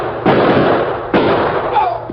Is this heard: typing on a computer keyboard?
no